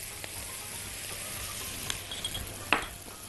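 Onions with a pinch of sugar and coriander caramelize in a frying pan, giving a soft, steady sizzle with a few light scrapes and clicks of stirring, heard close and quiet with no voices.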